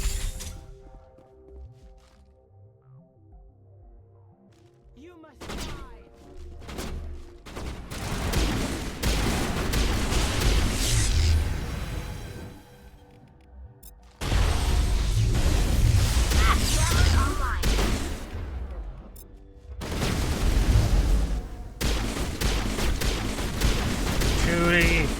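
Pistol gunfire in the sci-fi shooter Mass Effect Legendary Edition, sharp shots in clusters amid loud combat noise and booming bursts that swell and fade over the stretch, with a voice speaking briefly at times.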